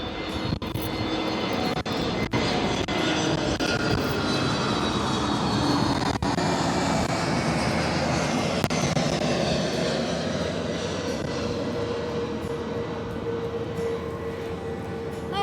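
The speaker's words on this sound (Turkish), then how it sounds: "Buradan çok fazla uçak geçiyor, biraz bekleyeceğim." A jet airplane roars over near Zürich Airport, a loud, continuous engine rumble whose pitch slowly shifts as it passes overhead, with sharp clicks scattered through it.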